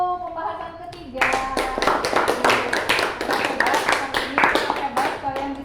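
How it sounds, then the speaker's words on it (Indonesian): Classroom applause from a group of student teachers or pupils, a burst of many hands clapping in a dense rhythmic patter for several seconds after a brief opening voice. "Tepuk tangan untuk pembahasan ketiga."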